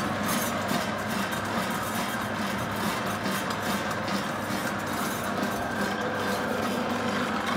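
Planetary mixer machine running, a faint, steady mechanical hum with broad whirring noise and no change in pace, with no talking.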